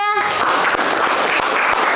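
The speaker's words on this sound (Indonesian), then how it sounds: "tepuk tangan untuk kelompok 3" Loud, continuous applause from a group fills the clip, following a brief spoken word at the start.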